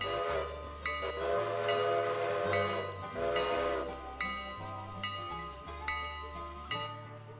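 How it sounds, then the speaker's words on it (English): A locomotive whistle sounds in the train simulation game Railroader: a run of loud, close horn blasts, some long and some short, over a rumbling engine, with no talking. "Give the whistle 2 blasts."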